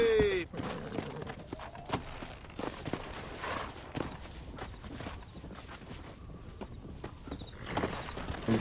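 Horse hooves clopping in a steady rhythm while riding in the video game Red Dead Redemption on Xbox One, moderately close and faint, with voices talking intermittently.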